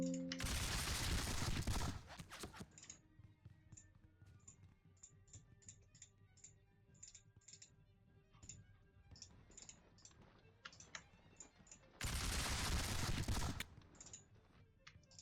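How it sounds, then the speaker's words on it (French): Musket gunfire in a War of the Austrian Succession video game battle at Habelschwerdt: loud volleys open and close the clip, with scattered single shots and clicks between them. "On tire sur les mecs qui fuient,"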